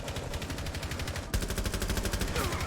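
Rapid automatic gunfire in Rainbow Six Siege rattles in fast, evenly spaced bursts, with a sharp jump in loudness midway as the shots come closer and punchier.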